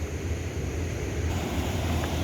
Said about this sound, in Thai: สุดยอดน้ำแรงมากเลยครับ